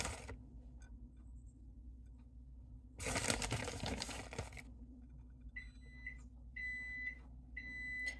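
Three electronic beeps from a microwave oven, evenly spaced near the end, over a low hum with a burst of clatter earlier.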